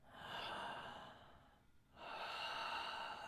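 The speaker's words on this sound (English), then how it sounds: "And I breathe into this area." Slow, close breathing: a long audible exhale, a brief quiet pause, then another drawn breath, soft and intimate with no talking.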